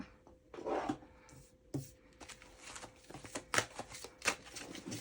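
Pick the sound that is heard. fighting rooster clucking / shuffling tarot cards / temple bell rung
shuffling tarot cards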